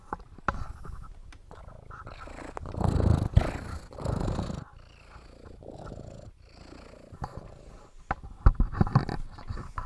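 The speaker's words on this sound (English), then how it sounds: "he just purrs the loudest purr you've ever heard" A cat purrs loudly and close to the mic in a continuous rumbling rhythm, swelling on each breath, with some soft rustling and handling noise.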